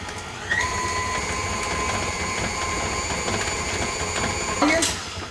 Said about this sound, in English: Always start the mixer on low. Let the mixer break it up a little bit, and then slowly increase the speed.